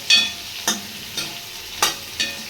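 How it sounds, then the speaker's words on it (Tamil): Okra being stirred as it fries in a hot pan for a quick okra kuzhambu, with five distinct scraping strokes of a spoon spaced about half a second apart over a soft sizzle, close and without talk. "வெண்டைக்காய் சேர்த்து வேகமாக வச்சு கிளறி விடலாம்"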